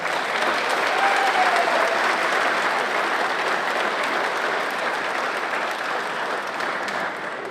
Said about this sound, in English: a big round of applause for the gallant runner-up Molly Dagg from Kildare.